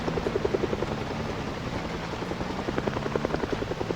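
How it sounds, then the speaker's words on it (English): Helicopter in Project Zomboid flying overhead, a steady loud rotor thump with rhythmic chopping pulses over engine drone, continuous and alone with no talk. "It's been about 30 minutes since the chopper showed up."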